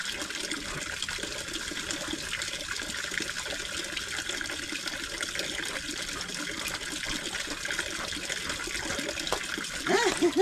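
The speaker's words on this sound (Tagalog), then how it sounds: "Diligan natin mga kahaw ang kalamansi." Water pouring steadily onto a calamansi plant at an outdoor camp, a continuous close splashing and trickling that swells slightly near the end.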